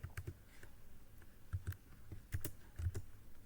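Someone types on a computer keyboard in short bursts of close, soft key clicks with brief pauses in between.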